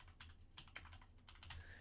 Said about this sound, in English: I'm just manually typing it at this point